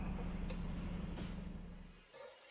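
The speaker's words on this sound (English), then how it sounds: "Let's drop the trailer." Trailer unhooking in American Truck Simulator: a sharp burst of air-brake hiss over the low, steady idle of a truck engine, the engine rumble fading near the end.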